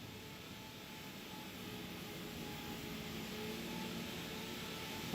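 Rolls-Royce Trent 7000 jet engines on an Airbus A330-900 in the X-Plane 12 simulator, a faint steady roar with a slow gradual swell as the engines spool up, no talk.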